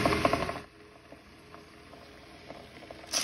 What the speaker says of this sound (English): Pepper I have to crank, so because I have to use 2 hands